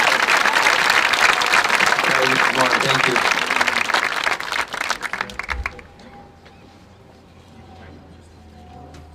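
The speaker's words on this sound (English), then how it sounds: "Another round of applause" Sustained audience applause for a concert choir at a 2022 school commencement, a dense clapping crowd that fades out over several seconds, with a brief spoken thanks.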